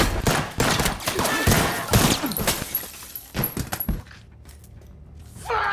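A film shootout: bursts of loud, close gunshots crack in quick irregular succession with clinking debris, then drop away to a quiet tail.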